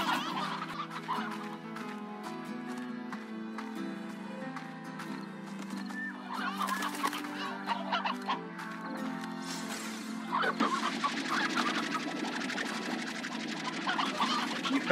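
Hens cluck repeatedly in the farming game Slime Rancher, the chicken-like calls layered over steady background music with no one talking.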